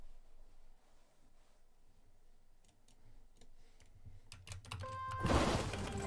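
Clicking keystrokes on an Apex Pro Mini computer keyboard, sparse at first and then a denser flurry of taps, with a louder burst of clatter near the end.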